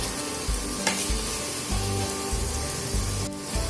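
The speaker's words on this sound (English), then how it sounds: "Frying sugar with onion will give a lovely color to the final gravy" Sugar and onion fry in a pan for a Bengali crab curry, a continuous close sizzle with soft stirring scrapes and a brief clatter near the end.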